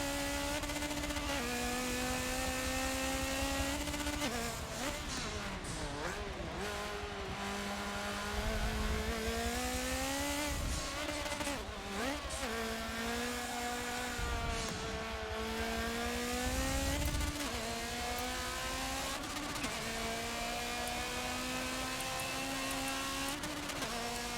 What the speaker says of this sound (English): Oh, now you can really hear that turbo up here.